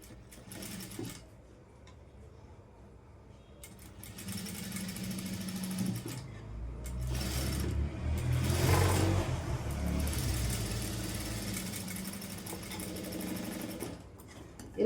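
A sewing machine stitching blouse fabric, whirring in bursts that start, speed up into a sustained buzzing run and stop again, close and loud with a brief pause near the start.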